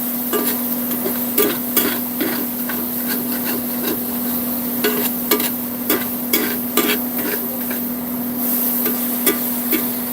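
Pork roast juices frying and being stirred in a pot inside an RV, giving a steady sizzle with intermittent scraping and rubbing strokes, close up and with no talking.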